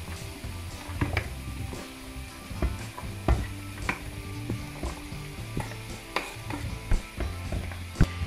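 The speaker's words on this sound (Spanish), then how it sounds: "vamos a añadir el calabacín" Chopped zucchini tossed into a pan of lightly fried onion sizzles steadily, with repeated scraping and clattering as the vegetables are stirred close by.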